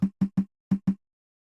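A conga playing a short syncopated pattern of five quick, evenly pitched hits, three then two, clean and dry.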